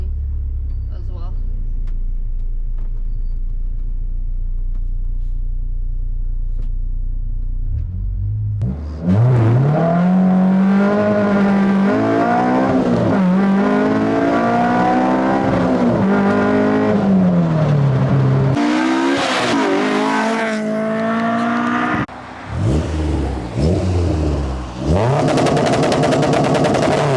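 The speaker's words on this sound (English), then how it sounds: "Nothing but wheel spin." A K-swapped Honda S2000 idles low and steady, then launches hard from 0 to 60 with wheel spin, its loud engine note climbing and falling through rising revs with brief gaps between gears, close and continuous.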